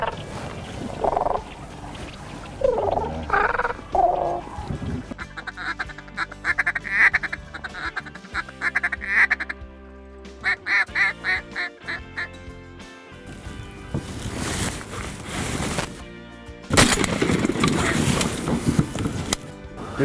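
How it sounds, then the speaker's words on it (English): Cranes call over a California Central Valley marsh, rolling bugling cries repeated near and far amid duck calls and other birds, with a loud burst of wind and rustling late on. "you hear the cranes behind us"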